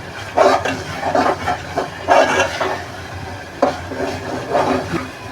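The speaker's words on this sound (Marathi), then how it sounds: "वाटण चांगलं परतून घेऊया चांगलं तेल सुटेपर्यंत वाटण परतायचं" Ground masala paste sizzles and is stirred in hot oil in a pan, with rhythmic scraping of a spoon against the vessel in repeated strokes, close and fairly loud, without speech over it.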